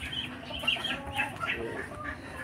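Free-range chickens cluck and chatter softly on a farm, with short scattered calls over a low background and a person speaking faintly.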